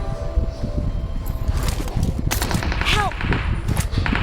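Rapid bursts of gunfire crackle in the mobile battle royale game BGMI, repeated shots ringing over gameplay noise and footsteps, close and loud, with voices talking at times.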